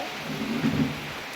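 Steady rain hisses throughout, with a low rumble of thunder swelling briefly in the middle of the short stretch.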